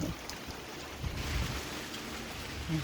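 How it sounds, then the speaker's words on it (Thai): Cold wind gusts steadily through an outdoor guava orchard in Nakhon Phanom, a continuous broadband rush with some low buffeting against the microphone and no talk. "ลมจ้ะเพื่อน"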